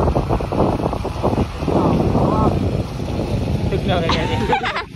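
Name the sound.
strong wind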